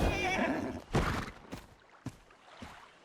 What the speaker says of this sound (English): The horses, though, are going outside.